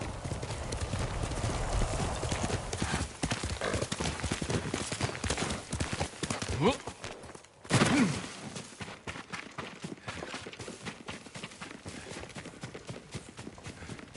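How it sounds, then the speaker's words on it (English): Horse hooves clip-clop steadily in Ghost of Tsushima, a continuous close rhythm of hoofbeats with a brief whinny-like break midway, over a low ambient bed. "Yuriko's horse."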